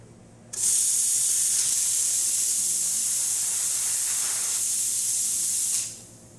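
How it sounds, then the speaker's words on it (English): A loud, steady steam hiss from a La Marzocco Linea Mini espresso machine steam wand starts abruptly, holds evenly for about five seconds, then cuts off, close and with no speech. "And then I'll show you the steam"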